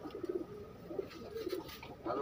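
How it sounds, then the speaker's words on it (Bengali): Sirazi pigeons cooing in a loft, several soft low throaty coos in short bursts over faint background hiss, moderately close and quiet with no talk. "এটা অনেক দামি কবুতর।"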